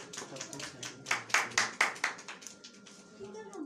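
Applause from an audience at a church worship event, a series of distinct sharp claps in a quick cluster that fades out toward the end, with faint voices underneath.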